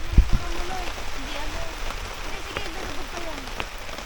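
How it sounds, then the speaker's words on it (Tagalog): Rain falls steadily at a campsite during a storm, a soft continuous patter on surfaces with a few heavier drops and knocks, while faint voices murmur in the background. "Ayan, umuulan na naman po dito."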